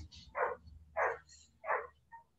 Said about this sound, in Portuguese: O cachorrinho barulhento.